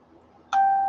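A phone gives a short electronic tone partway through, a single bright beep that cuts in sharply and holds steady after a moment of quiet room sound.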